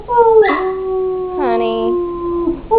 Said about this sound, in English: please don't get all the dogs howling